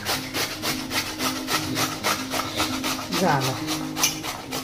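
Cucumber being grated for Marathi-style kakadicha gharya, a steady rhythmic rasping of strokes against the grater, close and moderately loud, with a brief spoken word partway through.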